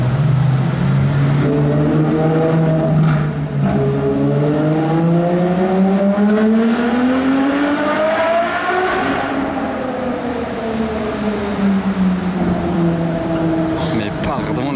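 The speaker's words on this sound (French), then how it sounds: "l'accélération de la Ferrari, je l'avais pas vue de la journée" A Ferrari accelerating hard, its engine note climbing through rising revs, dipping on a shift and climbing again, loud and close at a car-spotting event, with a voice talking over it.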